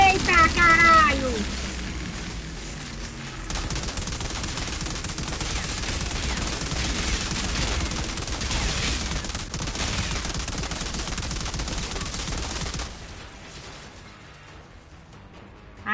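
Dense, sustained automatic gunfire from an Outriders firefight, rapid bursts and pops layered thick for most of the stretch before dropping off near the end, with a voice talking over it at the start.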